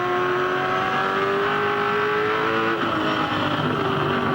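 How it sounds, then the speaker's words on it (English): A V8 Supercar race car screams at high revs at Eastern Creek during the 2003 championship round, a continuous loud engine whine with a sharp pitch drop at a gear change, then climbing again. "He was on the rev limiter coming down the hill"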